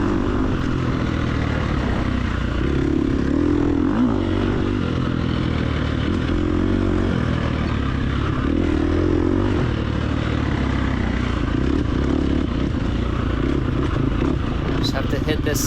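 A dirt bike engine in the TORCS racing video game during an off-road hare scramble race, a steady droning motor that rises and falls with throttle and engine braking, continuous under a man's speech.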